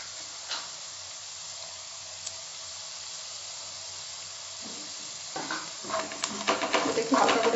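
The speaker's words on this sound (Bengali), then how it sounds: "এটা একটু হালকা করে ভাজতে হবে" Chopped garlic goes into a pan after onions for Karnataka-style lemon rice, a quiet stretch giving way to a rising sizzle and stirring clatter in the last couple of seconds.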